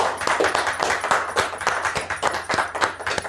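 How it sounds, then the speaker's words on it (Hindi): An audience claps steadily to welcome a speaker at a training session, dense hand claps close and continuous, with no talk over them. "जोरदार तालियों के साथ आप स्वागत कीजिए।"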